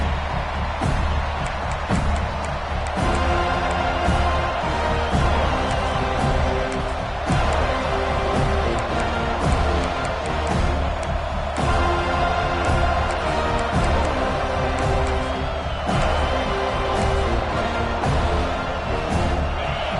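Large football stadium crowd at a Florida State Seminoles game against Duke, a steady loud roar of cheering and noise sustained throughout with pulsing swells, dense and continuous with no clear talk.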